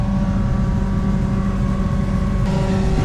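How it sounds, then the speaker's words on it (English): Sugar beet harvester running in the field, a steady loud mechanical drone with constant low rumble and tonal whine, close and unbroken, no voices. "I'm running the harvester here"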